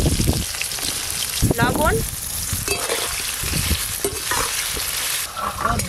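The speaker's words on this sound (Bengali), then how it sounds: "ওই একই তেলে আলুগুলোও ভেজে নেব।" Potatoes fry in oil over a clay stove, a loud continuous sizzle and crackle with stirring clatter, while a voice talks briefly over it.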